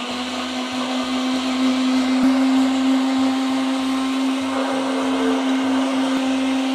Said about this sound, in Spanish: Ahí está, miren, ya está aquí la licuadora